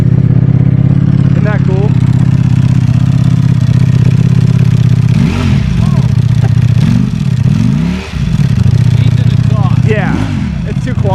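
A custom Ducati Monster 1200 motorcycle idles loudly up close, then its engine is blipped in several sharp revs that rise and fall, while people talk over it.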